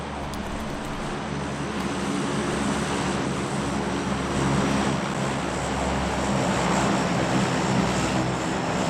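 A steady, broad engine drone from a plane in the battle-royale video game PUBG holds at an even loudness for the whole stretch, with no talk over it.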